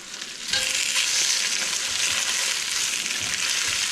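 Oxtail sears loudly in a very hot pot for a Cuban rabo encendido. A steady, bright sizzle swells sharply after a quieter start and holds without a break.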